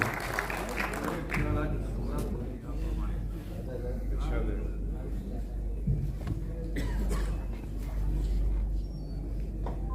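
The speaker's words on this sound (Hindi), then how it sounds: "जोरदार तालियों से इस्तकबाल जनाबे आदिल रशीद" Audience clapping at an Urdu mushaira poetry recital, a moderate ongoing patter of hands heard with room rumble and murmuring voices underneath.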